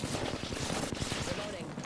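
Rapid gunfire bursts rattle steadily through a shooter video game firefight, dense and continuous across the moment, with voices and game chatter mixed underneath.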